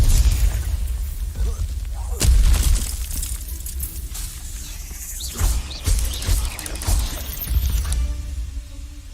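Blasting spell explosions in Hogwarts Legacy, the fantasy video game, a loud booming burst near the middle followed by a few more crackling blasts and game effects over dense low rumble, with no one speaking.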